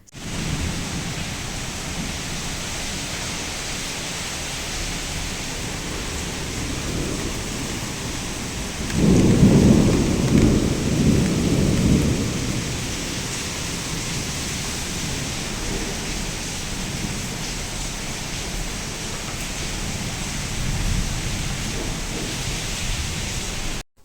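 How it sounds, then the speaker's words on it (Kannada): Heavy rain falls steadily in a thunderstorm, and a deep, loud roll of thunder swells midway before fading back into the constant downpour. No one speaks. "ಮಳೆ ಬರುವಾಗಂತೂ ಗುಡುಗು ಗುಡುಗು ಸಿಡಿಲು ಅದೆಷ್ಟು ಜೋರಾಗಿತ್ತು"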